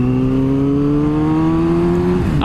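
Loud exhaust of a Yamaha R6 Raven Edition motorcycle at low road speed, a steady droning note that drops in pitch near the end as the engine eases off.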